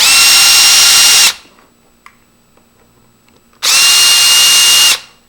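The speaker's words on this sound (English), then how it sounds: "we're going to go ahead and remove the top and bottom screws." A power drill removes the top and bottom screws from a Grade 2 Marks passage lever handle, with two loud sustained whirring bursts of about a second each separated by a quiet pause.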